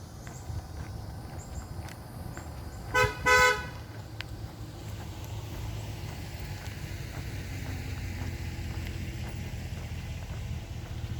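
A car horn honks twice in quick succession, short and fairly loud over steady street traffic noise in the background.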